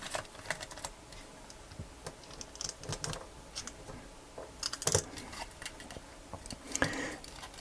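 Small screws being worked loose from a Sylvania motion light produce close, quiet, irregular clicks and ticks, with scattered sharper snaps and no talking.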